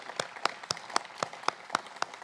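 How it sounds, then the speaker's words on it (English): Applause for award honorees at an equity awards event: a faint run of about nine separate, evenly spaced claps, sharp and distinct rather than a dense roar. "one more round of applause for Manuel Pastor and Tom Unterman."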